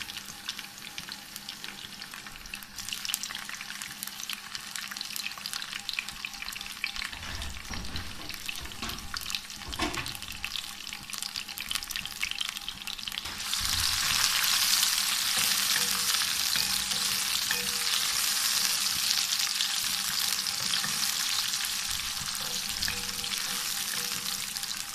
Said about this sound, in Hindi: ये भी इसी तरह फ्राई कर लेंगे।